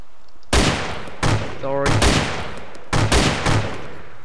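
Loud gunshots ring out in the DayZ video game, about five sharp cracks in uneven pairs with short echoing tails. A voice speaks briefly between them.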